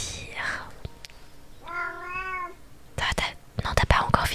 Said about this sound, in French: Encore un petit peu de miaou